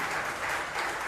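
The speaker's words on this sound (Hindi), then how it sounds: "एक बार जोरदार ताली बजा दीजिए" Audience at a spiritual discourse gathering claps vigorously, a loud, full and unbroken burst of many hands from start to finish.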